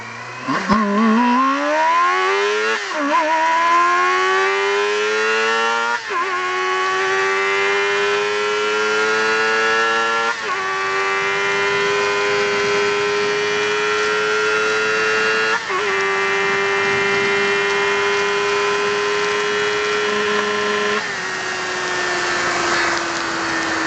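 A 250-class sport motorcycle engine with about 118,500 km on it revs hard toward 16,000 rpm, with a loud, high, screaming whine that climbs in repeated pulls and drops briefly between them, close up and with no voices.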